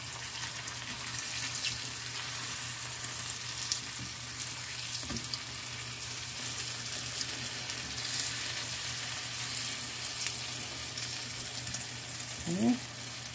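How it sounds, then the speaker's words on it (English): Zucchini chips sizzle in hot oil in a pan over a gas flame with a steady, crackling hiss, broken by a few sharp pops and a brief scrape of a utensil. "these are frying good enough"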